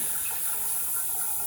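Water pours steadily from a no-touch sensor faucet into a commercial bathroom sink, a close, even hiss and splash with no voices.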